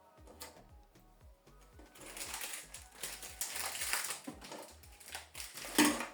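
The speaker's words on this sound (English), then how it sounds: "Give the printer time to recognize the ink." An HP Deskjet Plus 4100 printer whirs and clatters mechanically as it recognises newly installed ink cartridges, with rhythmic motor pulses and carriage movement building louder toward the end, close by and without speech.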